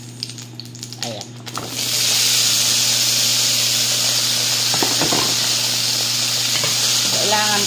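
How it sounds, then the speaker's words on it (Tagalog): Carrot and potato pieces sautéing in a heated pan for pork menudo, a steady loud sizzle that swells up after a quieter start and then holds, with a low steady hum and a few light scraping knocks. "igigisa po natin muna yung carrot saka patatas"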